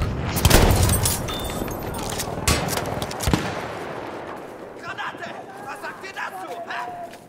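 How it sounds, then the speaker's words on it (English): Machine gun fire in the World War I shooter game Battlefield 1 crackles in rapid bursts amid a loud, dense battle din, with sharp booming shots and shouting voices over it. "Machine gun! Over there!"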